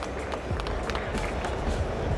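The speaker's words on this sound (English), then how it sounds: "Big applause, guys, big applause, come on." Dense applause and crowd noise fill a hall at a hookah trade fair competition, a continuous loud wash of clapping and cheering.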